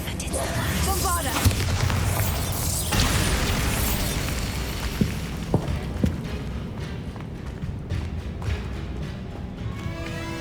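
Bombarda explosion spell in Hogwarts Legacy, a burst with rumbling debris that fades into scattered smaller pops and thuds, heard near and loud over a game soundscape.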